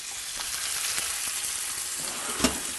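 Bacon frying over a low flame in a pan, a steady loud hiss and crackle with small pops throughout and one sharper snap near the end, no voices.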